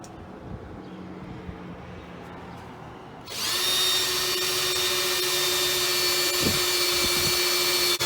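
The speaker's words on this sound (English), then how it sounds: "Now attach the drill bit that comes with your stand into your drill and drill" Power drill boring a hole straight down into wood while installing an umbrella stand insert, a steady high-pitched motor whine that starts abruptly after quiet room tone and runs continuously to the end, close and alone.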